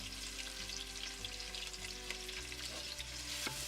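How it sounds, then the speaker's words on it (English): Finely sliced onions sauté in hot oil with peppercorns, giving a steady close sizzle and crackle with a few soft stirring scrapes. "So we'll let this saute."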